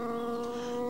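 A fly caught in a spider web gives a steady, close, high-pitched buzzing that hums on without a break.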